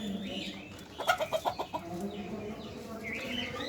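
A caged village hen gives a quick run of about seven clucks close by, set against quiet farmyard background noise.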